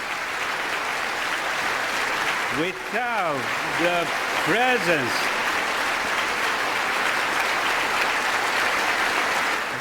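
Applause from the audience at the US Congress breaks into a speaker's speech, a loud sustained clapping that runs throughout while a voice speaks briefly over it partway through.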